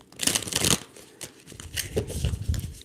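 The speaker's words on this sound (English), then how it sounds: "So let's shuffle again." Cards are riffled and slid together in quick papery bursts, close and fairly soft, with short pauses between shuffles.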